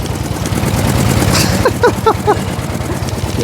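A 1904 De Dion Bouton veteran car engine idles with revs held up, a steady low chugging throb running throughout, with a short burst of sharp rising squeaks or clicks in the middle, close to the microphone.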